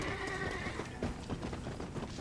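Horse hooves clip-clop in a steady, fairly close rhythm while a horse neighs and snorts in Red Dead Redemption, the game's horse being broken in, with a faint busy background throughout.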